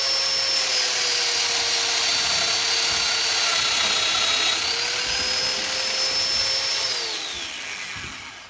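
A Domino jointer machine runs at a steady high whine as it cuts into wood, its pitch dipping slightly under load before winding down at the end, with no talking.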